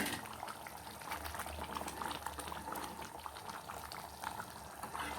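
Anchovy fish curry bubbling and simmering steadily in a pot, a continuous soft boiling burble close by with no talk.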